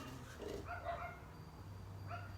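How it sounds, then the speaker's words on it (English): Several house dogs bark excitedly at someone walking a dog outside, a quick cluster of yips and barks followed by one more bark, somewhat distant and faint over a low hum. "Dogs started going crazy because there was somebody walking their dog outside"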